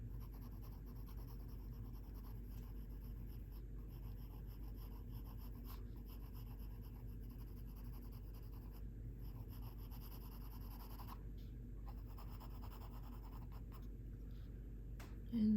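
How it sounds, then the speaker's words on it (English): Pencil shading a cherry drawing on paper, a soft continuous scratching and rubbing heard close but faint over low room hum, no talking. "Now I'm going to use a lighter pencil for the lighter side here."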